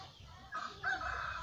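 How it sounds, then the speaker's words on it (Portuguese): Chickens cluck softly nearby while a rooster crows once, clear but not loud, over quiet background rumble. "Olha só a alegria dessas galinhas."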